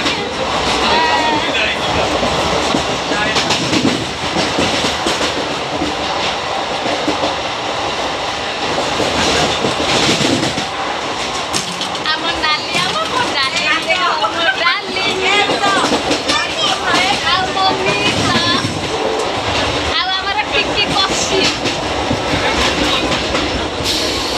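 Onboard a moving passenger train, steady rhythmic clickety-clack of wheels over rail joints with rumbling carriage noise throughout, loud and continuous, with people talking over it.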